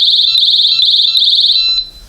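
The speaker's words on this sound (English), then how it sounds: "it'll still trigger the alarm." A Mosaic MH306 door and window vibration alarm blares a loud, piercing continuous shrill tone up close, holding steady for nearly two seconds before cutting off abruptly.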